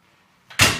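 The door of a Yeoman CL8 wood burning stove swings shut in a quiet room, a soft faint movement followed by a single firm, close thud as it closes.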